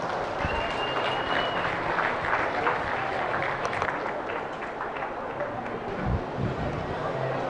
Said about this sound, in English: Let's give the kids a nice round of applause.